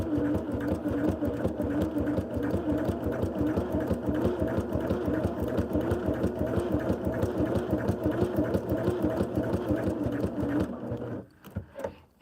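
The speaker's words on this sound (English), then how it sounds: "turn it over, and we're going to sew on that line." A sewing machine stitches steadily along a line on a sweatshirt, its rapid needle chatter and motor hum running continuously and close before stopping abruptly near the end.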